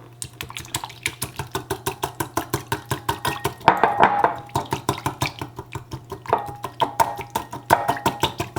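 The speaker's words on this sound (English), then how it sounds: "whisk the entire time you're adding the oil" A whisk beats oil into lemon juice dressing with rapid, steady, evenly spaced clicking strokes against a bowl, close and fairly loud, plus a faint low hum beneath.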